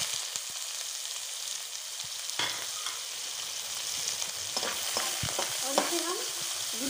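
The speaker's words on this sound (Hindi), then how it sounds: "हमने दो प्याज बारीक काट लिया है और हरी मिर्च इसे अब हम डालेंगे" Chopped onions and green chillies fry in a pan with a steady, close sizzle, interrupted by several stirring scrapes and clinks of a utensil.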